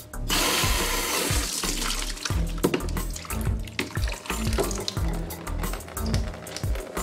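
Water gushes steadily into a bucket from the opened valves of an Unger HiFlo DI water filter, a loud close rushing flow with splashing and gurgling throughout.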